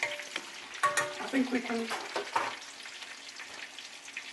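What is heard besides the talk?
chicken with garlic frying in pan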